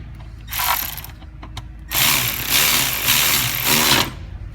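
A ratchet tightens a bolt on a Honda Civic Hybrid, sounding as two bursts of loud, close, rapid clicking, a short one and then a longer run, separated by a brief pause with no speech.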